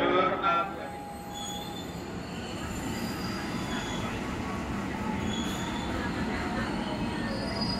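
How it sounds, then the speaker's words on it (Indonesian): Service locomotive train at a busy Jakarta railway station, its wheels squealing in sustained high-pitched tones over a steady rolling rumble, with a brief louder burst at the start and faint voices around. "Jalur 5 ini lokomotif dinas, teman-teman."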